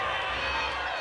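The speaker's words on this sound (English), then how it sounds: "we're hearing mixed reaction from the crowd" Crowd at a women's MMA title fight reacts in a dense, loud wash of cheers and jeers, a continuous roar of many voices with no clear individual words.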